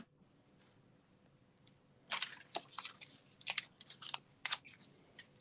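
Paper being cut for a Stampin' Up! Citrus Blooms stamped card, several short crisp snips and rustles close by after a quiet pause, with no talking.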